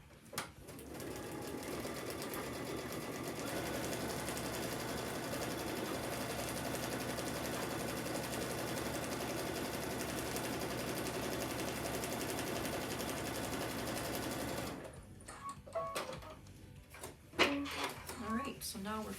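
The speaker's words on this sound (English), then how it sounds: "So now we are sewing on line number 4." A sewing machine stitches a quilt panel in a steady, continuous motor buzz for about fifteen seconds, then stops, and a voice speaks close by with small handling noises.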